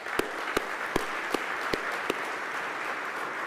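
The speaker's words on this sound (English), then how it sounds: "Let's give them all a round of applause." An audience at a State of the County address gives its event sponsors a steady round of applause, a dense wash of clapping with a few sharper claps standing out at regular intervals.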